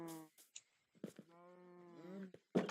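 Minecraft sheep bleating in a few separate wavering calls, fairly clear and up close, with short gaps of quiet between them and no talk over them.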